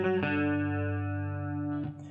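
Distorted electric guitar with heavy effects picks a repeating pattern, a steady sustained chord-like drone with even picked notes, loud and close, ending in a brief change of note.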